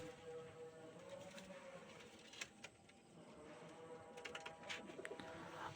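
Bansi koka pigeons coo softly and intermittently against a quiet background, with a few faint clicks and rustles scattered between the low calls.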